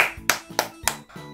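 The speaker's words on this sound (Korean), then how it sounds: "연주님 여러분 진짜 박수밖에 나올 수가 없어요 지금" Four sharp hand claps in a steady, evenly spaced rhythm, close and clear, with no other sound around them.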